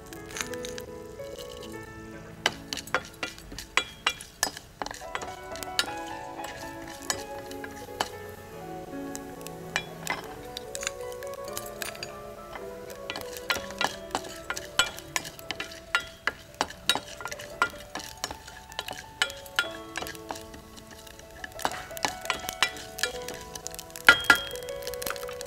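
Mustard seeds, cumin and urad dal fry in hot oil, giving a steady run of sharp crackling pops and spits over a soft sizzle, close and moderately loud, with faint tonal sounds in the background.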